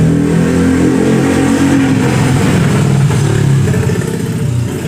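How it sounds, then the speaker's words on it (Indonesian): A motorcycle with a loud open aftermarket exhaust roars past, its engine rumbling and revving in a dense, steady drone that eases slightly toward the end. "ada suara sepeda motor. Wah, knalpotnya knalpot brong"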